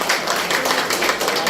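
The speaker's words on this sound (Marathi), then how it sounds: "अरे सर्वांनी जोरदार टाळ्या वाजवत खूप छान मुलाखत दिलेली आहे" An audience applauds loudly after a teacher's interview, with dense continuous clapping that holds steady and close for the whole moment.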